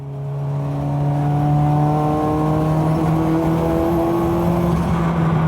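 Ford Sierra RS500 Cosworth BTCC race car in Labatts livery at speed on the Donington Park circuit, a loud steady engine drone with a strong low hum that swells over the first second, then holds with a slight pitch shift, no talking.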